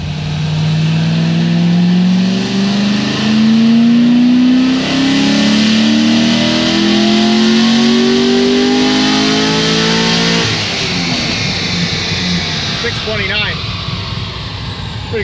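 A stage 4 C6 Corvette Z06 on a dyno revs through a pull, its engine note climbing steadily and loudly, then dropping off sharply near the end as the throttle closes, with a few crackles afterward.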